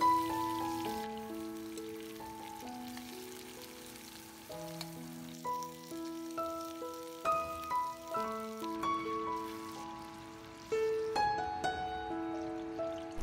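Eggplant pan-frying in oil over medium heat, a steady soft sizzle running beneath louder tonal background music for the whole stretch.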